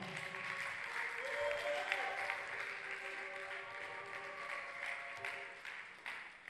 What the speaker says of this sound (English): If you are clapping, clap well.